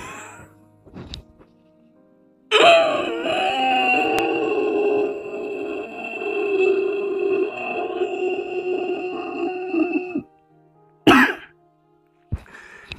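A long, strained throaty vocal sound is followed by a few short, sharp coughs near the end, close up.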